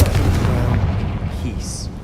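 Confringo fire spell from Hogwarts Legacy, a loud opening blast that trails off into a sustained rumbling roar, with a brief higher chime near the end.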